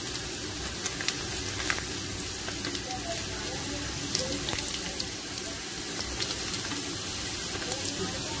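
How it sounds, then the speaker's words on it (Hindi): Dried chillies sizzle and crackle in hot oil as a tempering for Hyderabadi khatti dal with raw mango, a steady hiss with scattered pops running throughout at a moderate level, no talk. "बगार की मिर्च डाल दी।"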